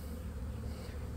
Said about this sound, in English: there seems to be another swarm coming in here